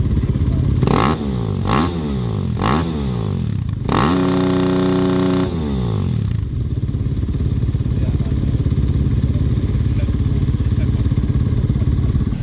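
A motorcycle engine revs sharply several times in quick succession during a noise test at the Qatar Baja World Cup, then holds a high rev before settling to a loud idle, close by.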